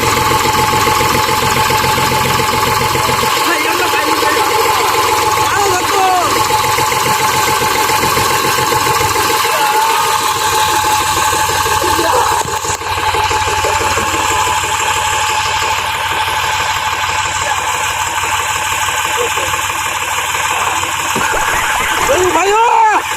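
A tractor engine runs loudly and continuously nearby, with a steady mid-pitched throb that holds for the whole stretch while voices talk over it.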